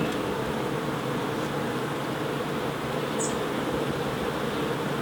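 Honey bees drone steadily inside an open hive being checked ahead of winter, a dense, even, close buzzing hum that holds without a break, with no talking.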